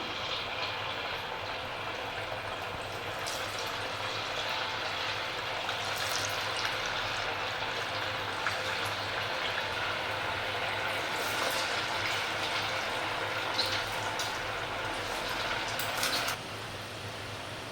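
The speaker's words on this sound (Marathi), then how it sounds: "तेल तापत ठेवलं होतं ते पण चांगलं गरम झालेलं आहे हे बघा एक एक आपण त्याच्यामध्ये वडा सोडून घेऊया" Medu vada made from raw potato and semolina sizzle in hot oil, a continuous bubbling hiss with a few brighter crackling bursts before it drops off abruptly near the end.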